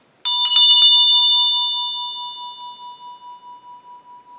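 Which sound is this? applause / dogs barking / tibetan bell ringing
tibetan bell ringing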